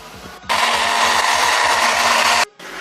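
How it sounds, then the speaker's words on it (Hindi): A blender grinding an onion and yogurt mixture whirs loudly and steadily for about two seconds, starting and stopping abruptly, with a faint chopping rhythm underneath. "अच्छी तरह से हम इसे पीस लेते हैं।"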